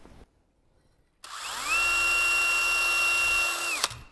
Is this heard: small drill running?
yes